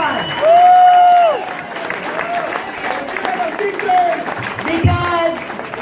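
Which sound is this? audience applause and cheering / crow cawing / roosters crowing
audience applause and cheering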